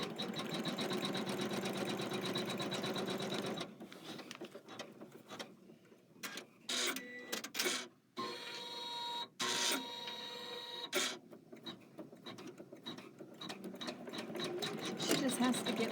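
A computerized embroidery machine stitching radish leaves runs with a fast, steady mechanical chatter, stopping and restarting in choppy bursts partway through before resuming its rapid rhythm; a voice talks briefly nearby.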